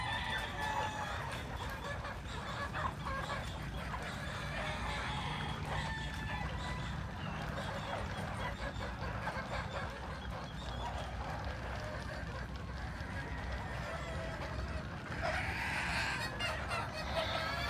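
Chickens and roosters cluck steadily around feeding time, a dense, continuous flock chatter with occasional louder calls over constant background noise.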